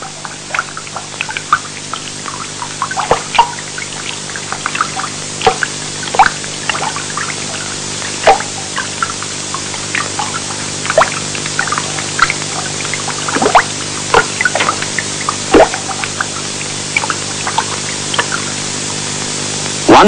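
Water steadily seeping and dripping inside a coal mine, a continuous wet trickle with scattered sharp drips throughout, fairly close and alone with no voices.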